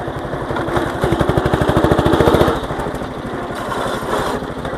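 A small Craftsman riding lawn mower, modified for a speed boost, runs up close with its clutch engaged, the engine chugging in a fast rhythmic pulse that swells louder midway and then settles.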